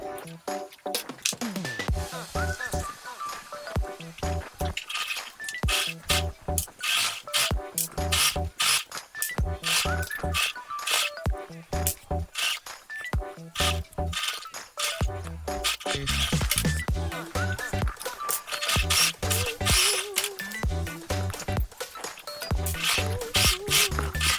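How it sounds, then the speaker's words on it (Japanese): Sewing machine presser foot being swapped from a zipper foot back to a standard foot, giving a steady run of small clicks, scrapes and metallic mechanical rattles close up, with no talking. "ミシンの押さえをファスナー用の押さえから普通のミシン押さえに戻します"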